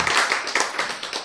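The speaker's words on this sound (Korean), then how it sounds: "박수" Audience members at a health lecture clap in a few quick, distinct bursts, sharp hand claps in a loose rhythm rather than a full sustained applause, fairly close and clear.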